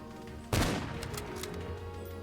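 A single loud bolt-action rifle shot in No More Room in Hell 2, a sharp crack with a lingering echoing tail over steady game ambience.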